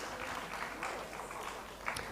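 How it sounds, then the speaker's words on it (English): Audience applause welcoming dignitaries at the ICSE 2025 plenary session, a steady dense patter of clapping for about two seconds, moderately quiet and without talk. "may we have a round of applause for their welcome"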